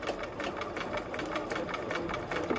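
A sewing machine runs steadily as it stitches fabric guided by hand, its needle producing a fast, even rhythmic whirring clatter close by, with no talking.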